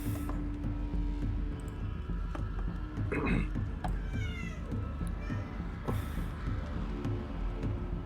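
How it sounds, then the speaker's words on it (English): Cats meowing in a room behind a steady hum and background noise, a few drawn-out whiny meows scattered across the span, faint and partly masked. "my cat's like screaming at me right now too"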